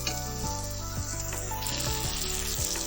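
Constant loud sizzling of goat meat frying in oil and spice paste, with occasional scrapes of a spoon stirring in the pan.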